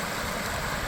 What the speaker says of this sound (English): got us a small waterfall